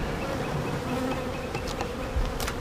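Honeybees in an opened hive on a beekeeping farm drone in a steady close buzz, with individual bees whining past near the microphone.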